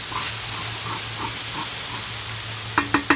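Boca crumbles stir-frying on an outdoor Firedisc, a low continuous sizzle with soft scraping and stirring, ending in three sharp knocks or scrapes against the pan.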